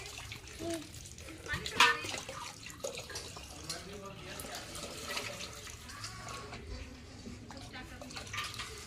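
A small child splashes and stirs water indoors, producing faint, irregular sloshing and trickling sounds, with voices talking now and then in the background.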